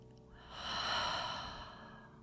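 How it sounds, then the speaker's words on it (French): Long breath exhaled through the mouth during a guided meditation, a soft airy whoosh that swells and fades over about two seconds with no talking. "Et expirez, soufflez par la bouche."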